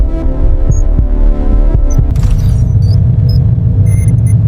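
Loud, steady heartbeat thumps, deep and evenly paced, repeating about every half second over a low rumbling hum, with faint high electronic blips layered in toward the end.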